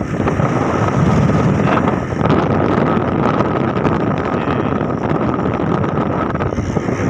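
A Suzuki 110 motorcycle rides along outdoors in Pakistan, its engine a steady drone heavily buffeted by loud wind rushing across the microphone, continuous throughout.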